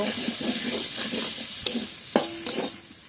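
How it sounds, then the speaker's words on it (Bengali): Fried potatoes being stirred into sizzling masala in a pan make a continuous hiss, with a spatula scraping and knocking against the pan in uneven strokes. "ভেজে রাখা আলু দিয়ে দেব। মশলার সঙ্গে ভালো করে মিশিয়ে নেব।"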